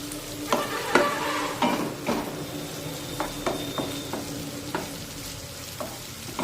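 Finely chopped tomato frying in a spiced oil tempering for a dry capsicum stir-fry: a steady close sizzle with repeated spatula knocks and scrapes from stirring, no talking.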